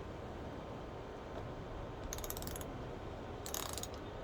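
A ratchet wrench loosens the banjo bolt on the front brake line of a Rebel 1100 motorcycle: a steady mechanical hiss underneath and two short bursts of quick ratcheting clicks close to the mic, no voices.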